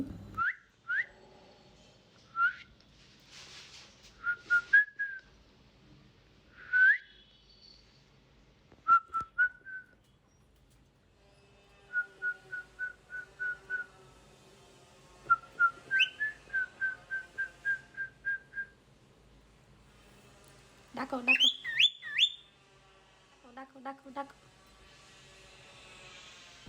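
Pet birds in a home whistle and call in separate bursts: short rising whistles, quick repeated trills and a few shrill squawks, clear and close against a quiet room, with pauses between phrases.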